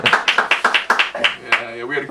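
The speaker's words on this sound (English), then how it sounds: "Give him a clap, everyone." A small group claps for a young champion fiddler. About ten sharp claps come in a quick, even rhythm, close and fairly loud, and a speaking voice follows as the clapping trails off.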